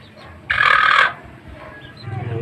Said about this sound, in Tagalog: Ito yung manok pansabong.